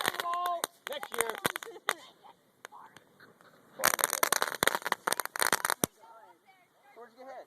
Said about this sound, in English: Justin, I think the crackle balls did really well this year.